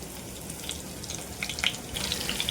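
Stuffed ridge gourds laid into hot masala with curry leaves in a pan, giving a soft, steady sizzle with faint crackles and a few brighter pops, no talking.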